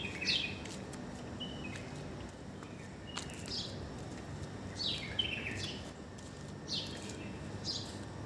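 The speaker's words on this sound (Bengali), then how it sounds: "পাখিগুলো ডাকতেছে" Birds calling at dawn on a quiet street in Qatar, with several bright chirps and short song phrases repeating at intervals over a soft, steady background hush.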